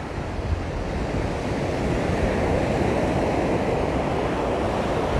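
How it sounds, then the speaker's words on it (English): Wind and rolling surf at Waimanalo Beach, Hawaii, a steady broadband roar of waves with gusty wind buffeting the microphone, continuous and loud with no voices. "good morning from a windy Waimanalo Beach"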